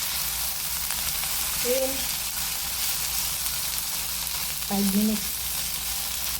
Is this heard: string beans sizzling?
yes